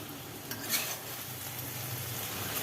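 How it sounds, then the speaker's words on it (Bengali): Whole pointed gourd stirred in poppy seed paste in a pan, a quiet continuous sizzle with soft scraping and a faint clink or two. "এইবার এটাকে নাড়িয়ে নামিয়ে নেওয়া হবে"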